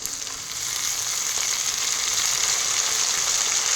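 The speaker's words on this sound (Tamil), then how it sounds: "இப்போ கருவேப்பிலை கொஞ்சம் போடுறேன் குழம்புல" Curry leaves hit hot oil in a lentil dumpling gravy, giving a loud, steady, close frying sizzle that holds for the whole stretch with no talk.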